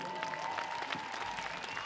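A concert audience at a Hungarian folk music show claps steadily for a singer. The applause is dense and continuous, heard from within the hall.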